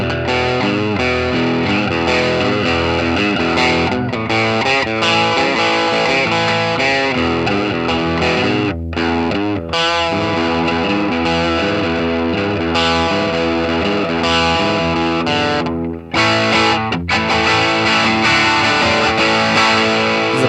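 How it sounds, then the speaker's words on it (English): A Fender Classic Series Baja 60s Telecaster on its bridge pickup plays through a Wampler Brad Paisley overdrive, sustained gritty chords and riffs ringing out loud and continuous for about twenty seconds. "So now I'm going to hit the overdrive or distortion now"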